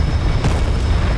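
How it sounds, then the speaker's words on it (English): Missile warheads strike a US aircraft carrier in a naval battle video game, a continuous loud, rumbling blast with a brief burst partway through and no gaps. "Look at the explosions, guys."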